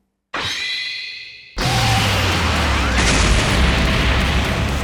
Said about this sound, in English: With a blast overtaking the area